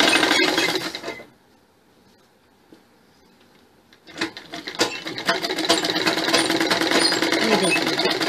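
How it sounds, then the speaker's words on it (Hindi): A sewing machine stitches a Chinese-collar sherwani suit, with a loud run, a quiet pause with small clicks, and then a long steady stretch of close stitching. "इस तरीके से वापस इसी लाइन में फिर सिलाई लगा देनी है"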